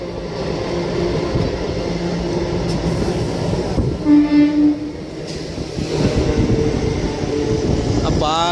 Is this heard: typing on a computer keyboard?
no